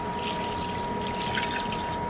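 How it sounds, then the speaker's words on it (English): Cold water pours over roasted pork bones in a stockpot, a steady broadband rushing and splashing that holds at an even level throughout, with no voices. "I'm going to cover it with cold water."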